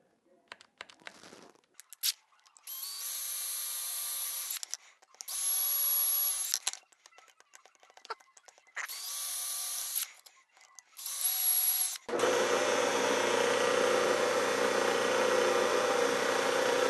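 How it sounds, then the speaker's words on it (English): A drill press bores into wood with a Forstner bit in a woodworking shop, several separate whining bursts with pauses between them, then one long steady run to the end. "I'm going to go over to the drill press when I need to use the Forstner bit."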